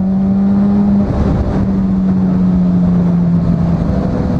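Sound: Suzuki GSX600 sport motorcycle engine with open exhaust

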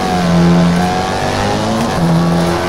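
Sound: rally car handbrake hairpin in WRC 3 video game

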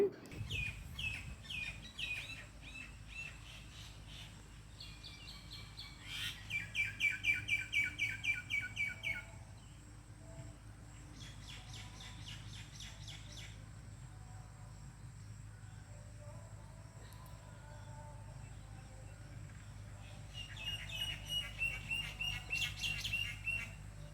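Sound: sparrow chirping

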